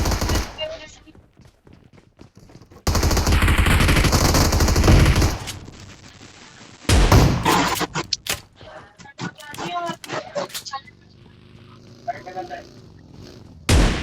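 Gunfire in a shooter video game, including a shotgun: long loud bursts of rapid automatic fire and sharp single blasts, with a player talking between the shots.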